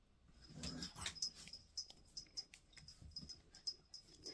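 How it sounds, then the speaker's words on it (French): Vic, a small dog, growls playfully at close range: soft, rhythmic rumbling pulses and breathy huffs, low in level, with a faint steady high whine in the background and no voices. "ce sont des grognements de jeu"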